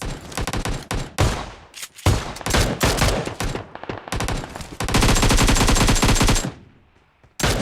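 Pistol gunfire in PUBG Mobile, dense bursts of rapid, loud, close shots in quick rhythmic strings, with brief gaps and one longer sustained volley before a pause.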